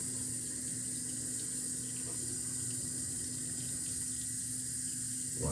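Tap water runs steadily from a faucet into a sink to wet an eyebrow razor, a constant even hiss holding from start to finish with no talk over it.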